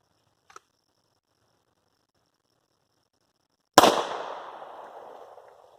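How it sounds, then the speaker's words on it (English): A pistol being fired in a test for a failure to feed. A faint click comes first, then after a pause a single loud, sharp shot rings out and decays slowly into the surroundings. "we're going to take a couple shots, and we're going to see if we can get this thing to malfunction"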